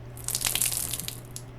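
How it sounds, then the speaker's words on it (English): Water gushes and drains through an opened valve in the horror adventure game The Last Door, a close, fairly loud rushing splash with bubbling bursts over a low steady hum. "When I open the valve, I will drain the water until all of the water has been removed."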